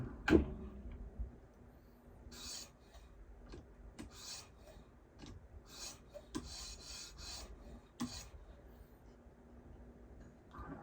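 A Spyderco kitchen knife is drawn across a CBN stone of about 400 to 500 grit, making a series of dry rasping strokes in close, uneven bursts with quiet gaps between them.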